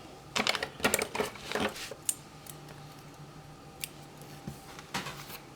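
Scissors trim paper for a homemade planner, with a quick run of crisp snips up close, then a few quieter, scattered clicks and cuts.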